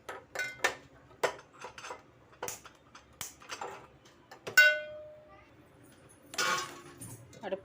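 A metal pot set onto a gas stove in a home kitchen while cooking palak keerai kulambu, heard as a series of sharp clinks and taps followed by one ringing metallic clang, then a brief rattle.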